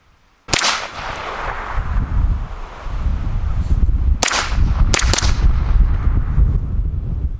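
Several sharp, cracking gunshots from a suppressed Sig MPX K pistol-caliber carbine with a HUXWRX Flow 9K Ti suppressor sound nearby, one alone and then a quick pair, over steady wind noise on a cold day.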